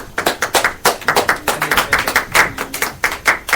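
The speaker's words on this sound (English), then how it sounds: "Give him a round of applause." A small group claps for a student in a training class, uneven sharp hand claps in a quick irregular rhythm, close and fairly loud, with no talk over them.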